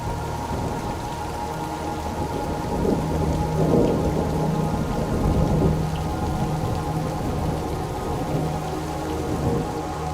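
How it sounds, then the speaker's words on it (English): Jungle thunderstorm with steady heavy rain and deep rolling thunder swelling loudly around the middle, a dense continuous wash of rainfall throughout with no voices. "The sudden increase in temperature and pressure before a cloudburst produces lightning, followed by thunder."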